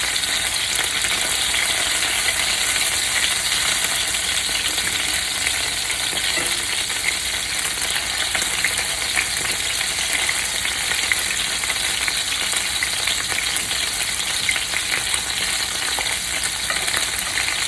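Seekh kebabs sizzle steadily in a hot pan after being flipped, a dense, even frying hiss that stays loud and close throughout with no voices.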